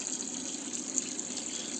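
A pump in a water barrel pushing water through green hydroponic pipes in a basement garage gives a faint, steady trickling flow that runs without a pause.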